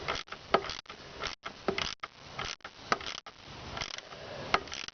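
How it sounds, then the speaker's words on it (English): Repeated ratcheting and creaking as a torque bushing is tightened on a Volvo 850, in several short bursts separated by brief pauses, close and moderately loud. "Just keep tightening and tightening and tightening."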